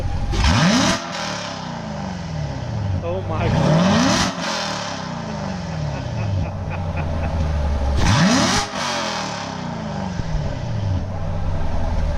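A C7 Corvette's deep V8 stock exhaust roars through two hard revs, climbing and falling back to a rumbling idle, loud and close from behind the car, with a brief exclamation from someone nearby.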